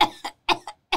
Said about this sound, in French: Bah, elle a fait me tousser.